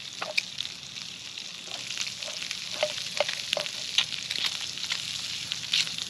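An egg fries in a pan over a campfire outdoors, giving a soft, steady sizzle with scattered small pops and crackles, quiet and without talk.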